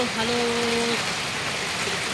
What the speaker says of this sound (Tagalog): Dito sa Palawan, lakas din ng ulan.